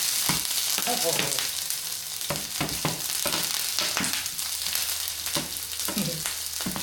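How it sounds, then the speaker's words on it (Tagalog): Pak choy and kangkong stir-frying in a hot pan, a steady loud sizzle with repeated sharp scraping strokes of a utensil against the pan, close up and continuous. "Mag stir fry lang ako ng pak choy at saka kangkong"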